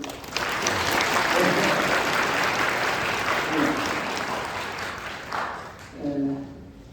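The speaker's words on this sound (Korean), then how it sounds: "우리 학생들한테 한번 박수." An audience at a high school information session for incoming students applauds the students. The steady crowd applause fills the room for several seconds, then tapers off as a voice begins speaking.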